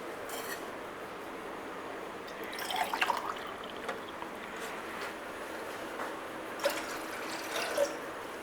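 About two glasses of water poured into a pressure cooker sitting on a lit gas stove, a faint, steady trickle with a few small splashes and drips, close by and quiet, with no talking.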